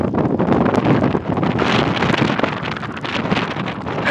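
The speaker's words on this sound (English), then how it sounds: "that wind is just blowing, blowing, blowing, blowing. That is some cold wind." Cold wind roars steadily across a lakeside during an approaching cold front, buffeting the microphone with loud, continuous broadband gusts and rumble and no pauses.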